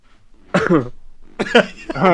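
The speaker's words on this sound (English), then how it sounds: "Just a cough." A couple of short, close coughs, each a brief harsh burst separated by quiet.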